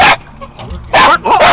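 A Lakeland Terrier barks at billy goats outdoors, two or three loud, close yapping bursts with a whimpering edge, separated by short pauses.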